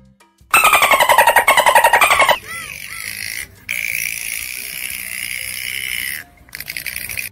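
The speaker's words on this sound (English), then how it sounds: "It's a dolphin." A dolphin's rapid clicking burst followed by long high whistles and squeals, loud and clear with a short pause between phrases, no talking.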